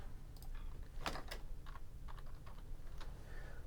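Quiet typing on a computer keyboard, a handful of scattered keystroke clicks over a low background hum, close and faint with no talk.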